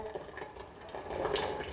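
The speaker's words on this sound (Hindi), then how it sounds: "तो इससे पानी सारा निकल जाएगा।" Water drains steadily through a sieve with a continuous splashing, trickling rush, close and moderately quiet.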